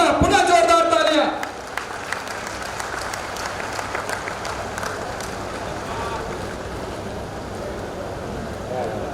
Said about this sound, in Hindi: एक बार पुनः पुनः पुनः जोरदार तालियां।